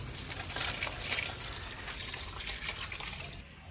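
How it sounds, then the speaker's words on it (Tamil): Water splashes and gushes steadily onto green chili plants and soil, a continuous close pouring rush that eases off slightly at the end. "பச்சை மிளகாய்க்கு ஒரு தண்ணி ஊற்றுவோம்."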